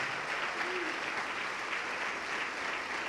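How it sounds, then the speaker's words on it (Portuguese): A church congregation applauding at a Portuguese-language worship service, dense sustained clapping from many hands filling the room, with a faint voice underneath. "Vamos aplaudir mais, igreja."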